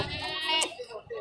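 A six-tooth goat bleats once, briefly and fairly close, at a livestock market in Dewas, with people talking around it.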